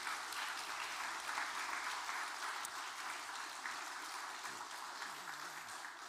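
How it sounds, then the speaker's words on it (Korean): A church congregation applauds steadily, a dense, even wash of clapping from many hands in a large room, fairly quiet and continuing without a break. "다시 한번 이들을 위해 박수 한번 해주시죠."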